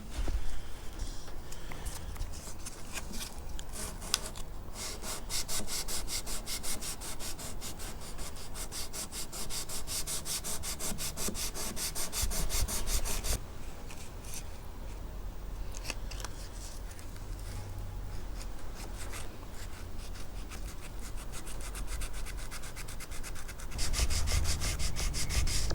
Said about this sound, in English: for these I'm going to use a metal blade with the sandpaper over it